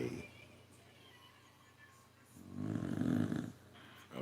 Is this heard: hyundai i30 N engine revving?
no